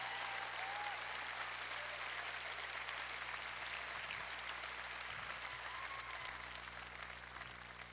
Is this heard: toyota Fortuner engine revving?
no